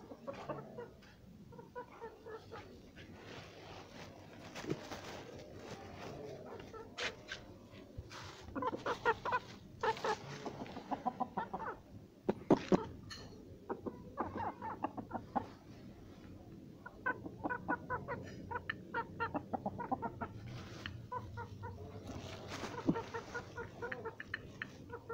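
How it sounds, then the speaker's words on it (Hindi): Roosters wander and cluck at a home yard in Rawalpindi while being fed millet, giving repeated short clucks and calls at close range over steady background noise, with no talking. "ये मेरे मुर्गे फिर रहे हैं"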